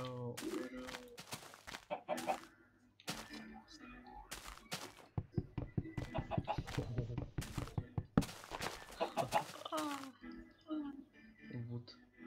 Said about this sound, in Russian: Курицы немножко другие.